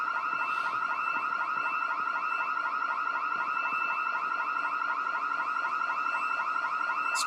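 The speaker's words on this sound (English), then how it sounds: "they heard an alarm" A car alarm blares in Project Zomboid, a looping electronic wail with fast repeating pulses, steady and loud from start to finish with nobody speaking.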